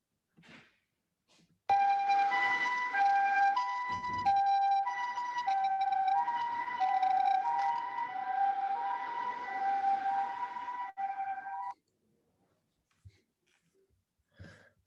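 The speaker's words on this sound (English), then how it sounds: "The third one is ambulance." An ambulance siren demo plays loud and steady for about ten seconds, a wailing two-tone pattern that starts abruptly and cuts off sharply, with near silence and a few faint clicks before and after.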